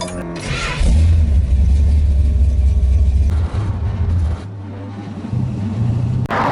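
A 1970 Dodge Charger pulls away and cruises, its V8 rumbling loudly as it accelerates through gears, with pitch shifts and brief lifts off the throttle, heard from inside the car.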